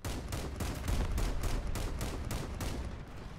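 Rapid gunfire from a vehicle-mounted weapon in the game Crossout, a dense run of evenly spaced loud shots repeating about every quarter second, close and unbroken.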